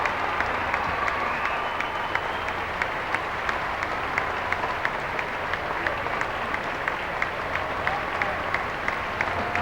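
Sustained applause from a crowd of about 2,400 faithful welcoming the Pope, a dense steady wash of clapping with scattered crisp claps close by and faint voices beneath.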